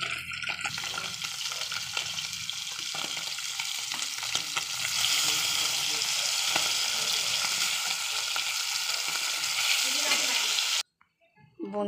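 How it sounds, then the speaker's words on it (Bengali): Fish fry in oil with a loud, dense, continuous sizzle and crackle, close, with occasional stirring, cutting off abruptly near the end. "এক এক করে মাছগুলো সব আমি ভেজে নেব।"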